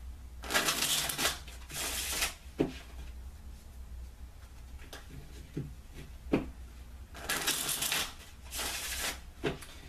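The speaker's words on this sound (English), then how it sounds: "Take a few moments to shuffle the cards the other way, just to get a really good shuffle." Tarot playing cards riffled and shuffled in several bursts of crisp rapid flutter, with quieter handling and soft taps in between, close by.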